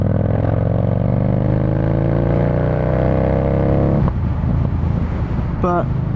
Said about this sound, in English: But that was a 4th gear pull, and it does just pull away.